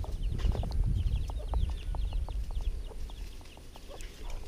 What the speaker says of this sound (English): So yeah, chickens are just roaming around.